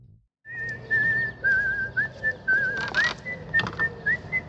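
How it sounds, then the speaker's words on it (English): A person whistles the theme from the 1968 film Twisted Nerve, a clear, close melody of sliding and bouncing notes repeated over faint background music. "That whistle L Driver does while walking down the hospital hallway,"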